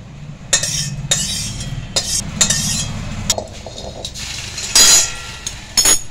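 Tempered spices worked by hand into cooled mashed boiled lentils for a mixed-dal bharta, heard as a series of close, short wet squishes and clinks repeating at an uneven rhythm, with no talking.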